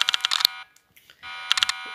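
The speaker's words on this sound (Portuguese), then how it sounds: "Um alarme disparou." An alarm goes off inside a house in a Roblox break-in game, rapid bursts of loud electronic beeping that stop briefly and then resume.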